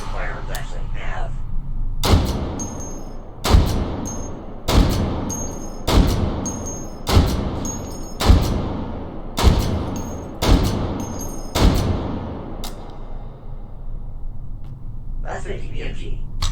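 Eight heavy .50 BMG rifle shots boom out one after another at roughly one-second intervals, each sharp crack trailing into a short echo, loud and close, with faint talk before and after.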